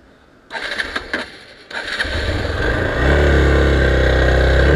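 A Hero XPulse 200 motorcycle with a fault that makes it stall on its own sputters, cuts out briefly, then catches and settles into a loud, steady close-up idle drone.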